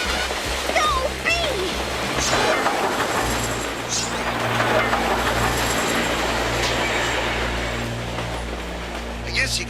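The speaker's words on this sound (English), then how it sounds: "Ace, the trains. They're seconds away." Trains rumble steadily along the tracks with a continuous low drone and hiss, a cartoon railway scene, while voices talk and shout over the noise throughout.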